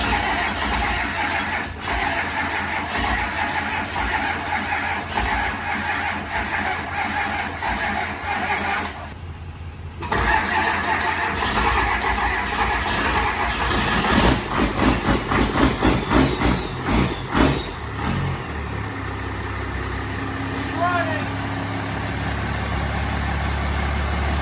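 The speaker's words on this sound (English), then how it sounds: "So now we're gonna try and get this thing fired up so we can bring it up to temperature" An engine in a diesel-converted Camaro cranks and catches, then settles into a steady, rumbling idle with a rhythmic knock; a brief pause interrupts the running, and the idle continues loud and close.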